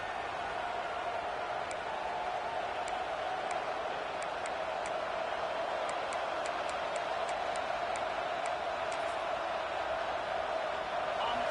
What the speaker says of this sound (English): Oh, this crowd wants it.